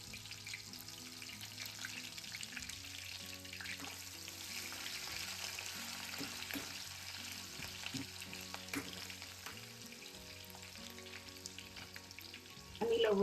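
Finely sliced onion dropped into hot oil tempered with cumin and asafoetida in a home kitchen, steady close sizzling and frying with faint stirring, swelling louder at the end.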